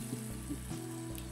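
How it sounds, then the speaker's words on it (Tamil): Water splashed into a hot pan of cooking masala gives a brief, fairly soft sizzle and bubbling fry that lasts just over a second. "கொஞ்சம் தண்ணி விட்டுருவோமா? ஜோஷுவர் கொஞ்சமா அது கொதிக்கட்டும்."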